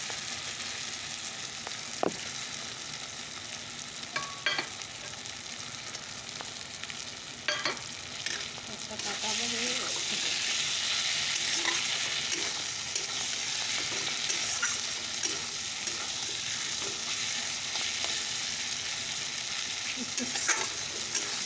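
Dried fish sizzling and frying in spice paste in a pan, a steady close hiss that swells after the fish goes in, with a few stirring scrapes and clinks throughout.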